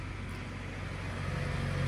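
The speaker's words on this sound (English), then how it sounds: "There goes a tractor." A tractor rumbles past outdoors, a low steady engine drone that grows slightly louder as it goes by, with no one speaking.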